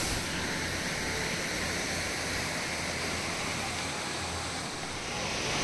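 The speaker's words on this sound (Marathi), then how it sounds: "हा आहे वसुंधरा वॉटरफॉल। अतिशय सुंदर, साधारण 100 फुटावरून कोसळणारा हा अतिशय मोहक" Vasundhara waterfall at Bhandardara near Nashik, plunging from about 100 feet, gives a steady, dense roar of falling water that holds at an even level throughout with no break.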